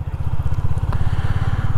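A Royal Enfield Classic 350 single-cylinder engine idles close by, thumping in an even, rapid pulse for a couple of seconds with no voices over it.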